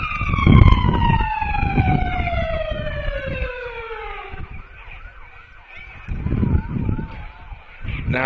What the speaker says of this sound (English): Ambulance there.